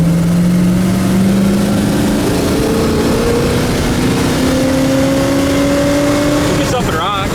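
A 1966 El Camino fitted with two new mufflers, running at speed with a loud, steady engine drone whose pitch climbs slowly through a long pull, wind and road noise underneath, and a brief voice near the end.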